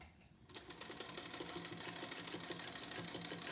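A sewing machine stitches fabric for a healthcare face mask, starting after a short quiet moment and then running in a steady, close, rapid mechanical rhythm without pause.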